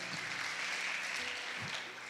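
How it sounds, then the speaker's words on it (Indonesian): Church congregation at a sermon clapping together, a quiet, even patter of many hands heard at some distance, with faint voices mixed in. "Tepuk tangan buat Tuhan Yesus dong"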